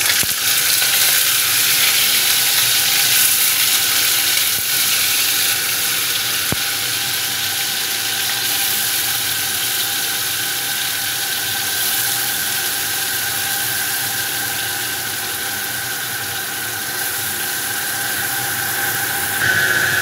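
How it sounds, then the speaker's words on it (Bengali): Paneer pieces fry in hot oil in a pan, giving a loud, steady, close sizzling hiss that holds unbroken throughout with no voices. "এবার ওই তেলের মধ্যে পনিরগুলো হালকা করে ভেজে নেব"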